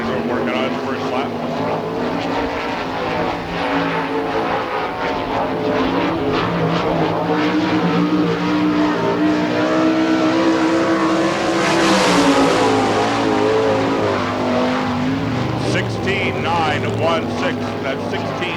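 Sprint car engine roaring through its first lap at an All Star Circuit of Champions race in Hartford, Ohio, a steady loud drone that swells and fades as the car passes, with announcer talk over it.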